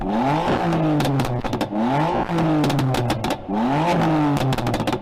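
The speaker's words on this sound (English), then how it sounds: "Rev up the new M4, will you? Doesn't seem much different. Can we have a listen to the old M4" An older BMW M4 revs hard in repeated rising and falling blips, loud and close, with sharp crackling pops and bangs on the overrun between each rev.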